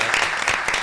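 Brief burst of studio audience applause for a guest on a talk show, a dense wash of clapping hands that fills the moment steadily without a break.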